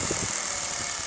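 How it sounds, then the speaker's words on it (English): A spinning wire brush grinder runs with a steady motor hum and a bright high whir, close and continuous for a brief moment. "this is a brush grinder"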